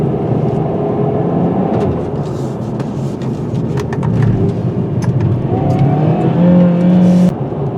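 A 2021 Hyundai Veloster N Turbo drives on a winding road in its Sport Plus setting, with a steady, loud cabin engine drone and road roar, and the engine note rising near the end.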